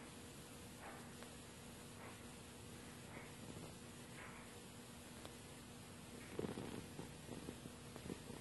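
A soft, steady purr, faint and close, running continuously with a few slightly louder rustling bumps near the end.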